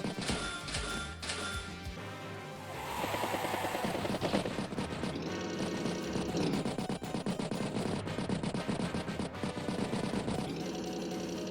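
Battle copter attacking a tank in Advance Wars, rapid machine-gun bursts and rattling gunfire over rotor whir and game music, dense and sustained, no talking.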